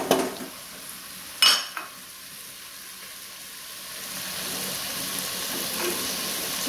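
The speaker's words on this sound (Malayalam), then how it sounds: "ഇനി ഞാൻ ചിക്കൻ ഇട്ട് കൊടുക്കാം. അതിൻ്റെ കൂടെ ചിക്കൻ ഒന്ന് നല്ലപോലെ ഒന്ന് വഴണ്ടി കിട്ടട്ടെ." Chicken pieces sautéing in a pan for Kerala-style curry, a soft continuous sizzle with a couple of sharp clatters of utensil on pan early on, the frying noise swelling gradually toward the end.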